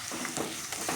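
Ginger garlic paste frying in a pan for egg curry, a steady close crackling sizzle with small popping bursts throughout.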